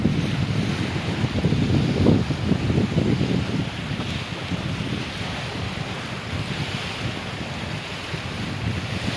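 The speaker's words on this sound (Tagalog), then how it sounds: "Lakas ng hangin." Strong wind from Typhoon Kristine roars and buffets steadily, with rushing gusts that swell and ease, no voices present.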